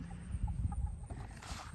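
Soft chicken clucks and low murmuring calls from a few birds close by, with faint background noise.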